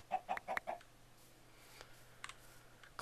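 A Minecraft chicken gives several quick clucks in a short burst at the start, followed by faint scattered game sounds.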